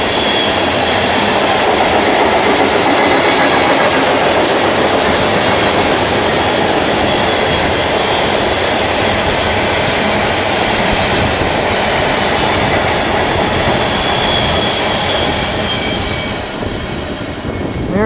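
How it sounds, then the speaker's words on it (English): A very long, heavy BNSF grain train of hopper cars rolls past close by, loud continuous wheel rumble and clickety-clack with occasional squeal, steady throughout with no talk. "There's the end of that gigantic BNSF grain train, symbol is G107, with 5 engines and a Warbonnet"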